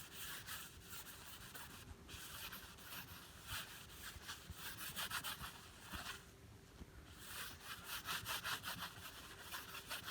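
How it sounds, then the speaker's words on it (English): A soft cloth rubs polish onto a wooden drawer in rapid, rhythmic back-and-forth strokes, a close, quiet swishing that pauses briefly twice before resuming. "put it on the whole surface and then rub it on with a soft cloth"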